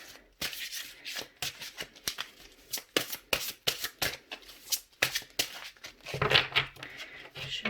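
A deck of tarot cards is shuffled and cut by hand, giving repeated quick riffling flutters and soft slaps close up, with no talking.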